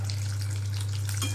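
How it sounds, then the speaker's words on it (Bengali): Danta vegetable stalks fry lightly in mustard oil with white cumin, giving a soft, steady crackle and hiss close by with a constant low electrical hum underneath. "ডাঁটাগুলোকে একটু হালকা ভাজা করে নিই।"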